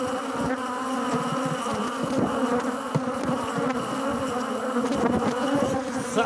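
Honeybees swarm over a beehive frame holding stored honey, giving off a dense, close, continuous buzz with no talk.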